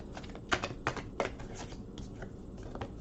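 Tarot cards being shuffled: a run of soft, papery riffles and taps, close and fairly quiet, with a few sharper flicks standing out against a faint background hiss.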